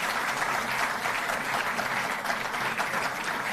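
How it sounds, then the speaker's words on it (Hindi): A steady, even roar of applause from an audience honouring Olympic athletes at a Delhi government ceremony, continuous and fairly distant with no pauses. "जोरदार तालियों से"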